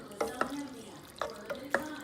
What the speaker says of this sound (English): We stir.